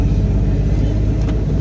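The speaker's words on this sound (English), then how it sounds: "Just do some normal driving until we warm it up." Car fitted with a 60mm throttle body cruising in normal driving while warming up, a steady close low rumble of engine and road noise with no talk.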